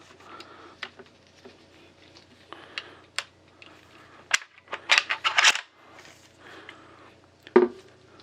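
Pump-action and semi-automatic shotguns cycled repeatedly to unload shells, giving a series of sharp mechanical clacks and rattling metallic slides, clustered in a busy burst near the middle, fairly close and alone.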